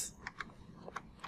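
Keys click on a computer keyboard in a quick, faint burst of a few taps during a Windows setup task, with no talking.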